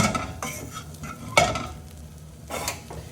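New seasoned potatoes are stirred into an onion mixture in a pan, with a few scraping and clinking strokes against the pan over a soft sizzle and a sharper knock midway, no speech.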